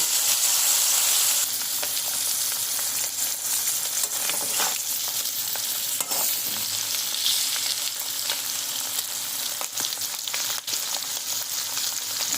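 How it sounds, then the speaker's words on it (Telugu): Dried fish and brinjal fry in bubbling oil, making a loud, steady, close sizzle with occasional stirring scrapes throughout and no voices. "ఆయిల్లో బాగా మరుగుతున్నాయి"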